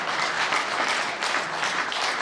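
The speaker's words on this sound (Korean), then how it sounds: "박수 한번 주세요." An audience at a book launch event applauds in a steady, even burst of clapping, moderately loud and filling the short moment without talk.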